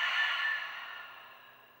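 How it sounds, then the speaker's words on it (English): A long, soft exhale through the mouth during a yoga breathing exercise, a breathy hiss that is louder at the start and slowly fades, heard alone and close. "and then exhale through the mouth."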